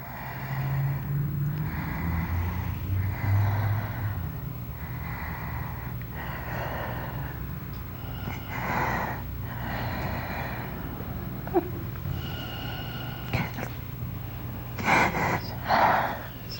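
Deep, guided breathing in a rebirthing session: slow, repeated inhales and exhales, some catching like gasps or snorts, fairly close and steady, with a few sharper breaths near the end and no talking.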